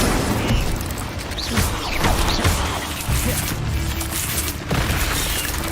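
A fire spell cast in Hogwarts Legacy, heard as repeated bursting, crackling whooshes and thuds amid dense, loud game combat noise, with no clear gap between hits across the stretch.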